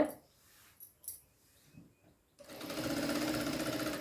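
A sewing machine stitching the lining of a blouse: faint handling sounds at first, then the motor starts and runs as a steady, close mechanical whir.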